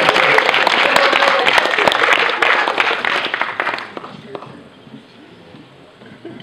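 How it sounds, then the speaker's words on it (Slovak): Loud audience applause at an evening fashion show of crochet and jewelry-making workshop creations, dense steady clapping that fades to scattered claps and quiet room noise over the last few seconds. "Veľký potlesk."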